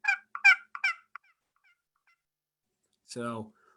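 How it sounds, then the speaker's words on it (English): A short burst of soft, clipped turkey hen clucks, then a pause and a single louder, drawn-out call near the end. "really short, just soft clucks"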